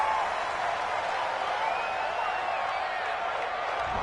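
A stadium crowd in a PS4 football video game keeps up a steady, dense roar of disapproval, a sustained wash of many voices with no gaps.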